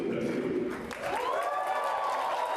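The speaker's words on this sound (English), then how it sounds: "Welcomed with a round of applause by Brazilian climate activists" Round of applause from Brazilian climate activists welcoming their country's president-elect at a climate summit, a steady crowd clapping wash with voices mixed in, continuing throughout.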